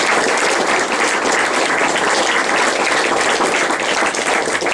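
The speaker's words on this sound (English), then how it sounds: "round of applause?" An audience at a guitar clinic gives a loud, dense round of applause that continues steadily and close by for the whole stretch, with no talking over it.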